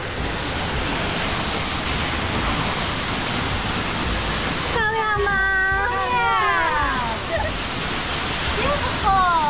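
Longgong waterfall on the Meishan Zhukengxi trail roars in a constant, loud rush of falling water; partway through, people begin talking over the steady roar.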